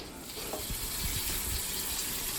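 Water runs steadily from a tap into a sink in a prison cell, a constant rushing hiss with no break, heard close by and with no talk over it.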